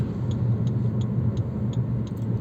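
Car driving at steady speed in fifth gear through fog, a continuous low road and engine rumble heard from inside the cabin, with a faint regular ticking above it.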